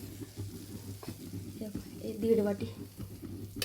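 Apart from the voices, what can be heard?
roasting semolina in ghee in a kadai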